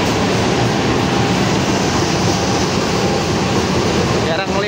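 A CC 206 diesel locomotive from the Cirebon main depot idles at a station with a loud, steady broadband engine rumble that stays constant throughout, with a faint brief clank near the end.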